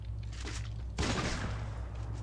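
Rapid burst of gunfire in a video game, a sharp broadband volley that rings out loudly after a quieter stretch and decays over about a second, with faint game ambience around it.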